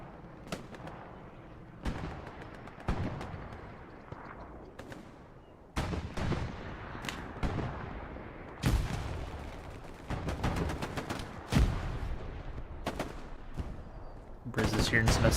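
StG assault rifle fire in the Hell Let Loose video game, in a competitive match on the Driel Brick Factory map: repeated sharp bursts of gunshots, some near and loud and others more distant, continuing throughout the scene without letup.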